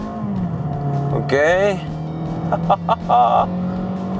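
A compact car launches hard from a standstill with traction control cutting in, engine note climbing steadily and loud up close, with brief tire chirps and a voice speaking over the acceleration.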